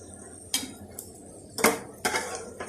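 Fried chicken vegetable kababs lifted out of a pan, with a few clear clinks and scrapes of a utensil against cookware, close and fairly loud, spaced apart over a faint background.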